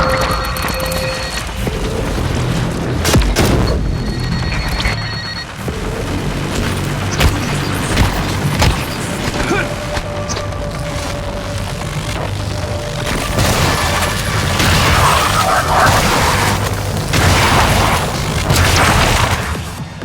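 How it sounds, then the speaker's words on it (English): Recycler grenade blasts in the sci-fi video game Prey come as deep booms and crackling bursts over a busy game soundscape of rumbling and mechanical noise, with several loud hits spread across the stretch. "I probably totally could use a recycler grenade."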